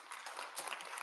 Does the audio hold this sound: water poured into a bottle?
no